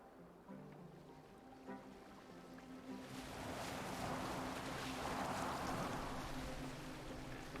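A boat moves across open water in Assassin's Creed Valhalla, with wind and a swelling wash of waves building into a steady rush after a quieter start.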